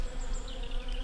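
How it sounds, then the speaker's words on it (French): Swarm of robber bees buzzing as they fly in and out of a beehive, a steady dense hum close by with no voices. "je vois plein d'abeilles qui rentrent et qui sortent. Oh oui, c'est des pilleuses."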